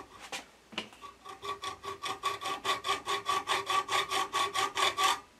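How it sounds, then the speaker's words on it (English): Hacksaw gently cutting a slit in a part for a scratch-built Gauge 1 live steam model, opening with a couple of tentative strokes before settling into about twenty steady, evenly paced rasping back-and-forth strokes, close and clear. "So this is a gentle job with the hacksaw."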